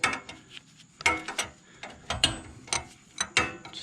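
Ratchet wrench slowly tightening a sway bar end link on a Ford Crown Victoria front end, a close series of sharp clicking pawl strokes in uneven bursts of ticks, no talk.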